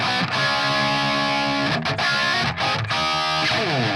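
Distorted electric guitar in a classic brown-sound tone, playing crunchy chugging chords with brief gaps between phrases and no vocals.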